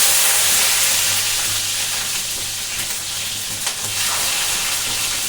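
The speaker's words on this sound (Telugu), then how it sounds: "ఇప్పుడు అందులో ఆవాలు, జీలకర్ర, అలాగే సన్నగా కట్ చేసి పెట్టుకున్న పచ్చిమిరపకాయ ముక్కలు" Mustard seeds, cumin and finely chopped green chillies sizzling in hot oil, a loud, steady, close frying hiss that carries on without a break.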